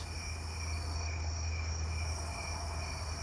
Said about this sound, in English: I thought maybe those snowy tree crickets were close enough to find, but they're not